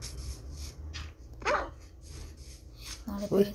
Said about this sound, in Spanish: Me persigue el lobo.